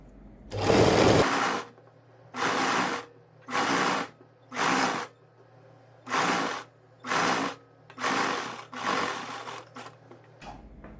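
A sewing machine stitches a facing strip onto kurti fabric in eight short bursts of rapid whirring, each one to two seconds long with brief pauses between, close and loud with no talking.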